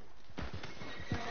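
Horse hooves clip-clop at a gallop in Red Dead Redemption 2, a steady run of close, loud thuds with a brief whinny mixed in.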